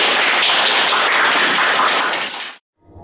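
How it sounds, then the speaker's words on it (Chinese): Dense, steady applause from an audience at a Taoist spiritual teaching talk, loud and close, lasting over two seconds before stopping abruptly, with a faint rustle after. "掌声。"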